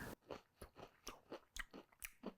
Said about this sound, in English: I'm going to eat the fried tail too, because it's super duper delicious